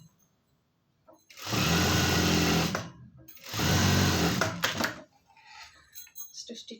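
A sewing machine stitches a blouse sleeve in two close, loud bursts of about a second and a half each, followed by light handling sounds.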